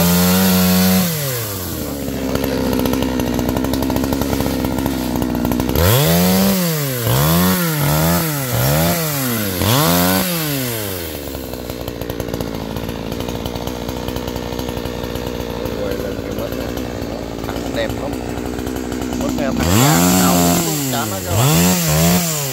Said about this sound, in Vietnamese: Cái máy cưa này là máy cưa G450 nha các bạn.